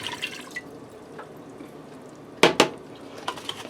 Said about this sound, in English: dump a cup of water down on the bottom.